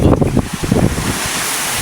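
Strong wind buffets a mother boat at sea in rough weather, loud gusty roar with wind noise on the microphone over low churning water, no talk.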